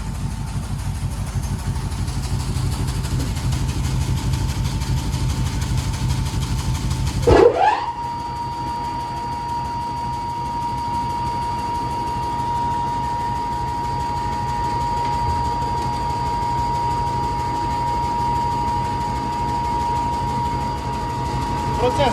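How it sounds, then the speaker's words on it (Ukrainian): On a mechanized compound feed production line, a pellet mill and screw auger run loudly. Broad machine noise gives way to a sudden transition, then a steady hum with a sustained tonal whine and engine-like drone continues for about fifteen seconds. "Потім запускаємо ми е, гранулятор і потім запускаємо вже сам по собі е, шнек."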